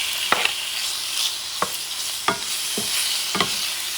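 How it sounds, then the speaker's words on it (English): Alligator meat sizzles in extra virgin olive oil over medium-high heat, a close steady hiss of frying punctuated by several sharp scrapes of stirring. "extra virgin olive oil. And what I'm going to do is, I'm going to start cooking some of these"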